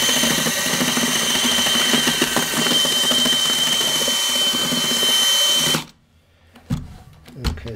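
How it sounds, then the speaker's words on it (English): A high-torque drill spins a paddle mixing thinset in a bucket, running loud and steady for nearly six seconds before stopping, followed by a few faint knocks and scrapes. "So I do not want to angle this paddle too much, because if this gets into the corner, it will end up grabbing the bucket"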